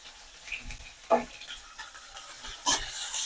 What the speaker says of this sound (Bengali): পেঁয়াজ রসুনটা একটু হালকা ব্রাউন কালার করে নেব, ভাজা নেব।